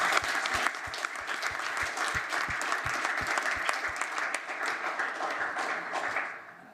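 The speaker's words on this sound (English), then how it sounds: "Just a round of applause to thank our lovely speakers for giving up their time" Audience applause thanking the speakers at a regional anaesthesia journal club: a steady burst of clapping from a small room of people that fades out at the end.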